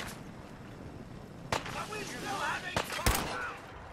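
Gunfire in the video game Fallout 4: a few sharp isolated shots, one near 1.5 s and a louder pair around 2.8–3.1 s, set against a busy game soundscape with someone talking over it.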